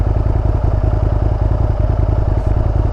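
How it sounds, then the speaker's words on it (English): A 2007 Aprilia RSV Factory, a 1000cc twin-cylinder sport bike, idles steadily up close with a lumpy, even low-end pulse and some mechanical clatter, no voices. "It's my 2007 Aprilia RSV"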